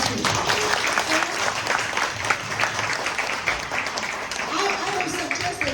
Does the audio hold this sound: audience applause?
yes